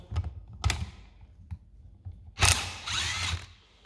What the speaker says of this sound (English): So this is the DeWalt impact wrench, and it's actually a very powerful machine.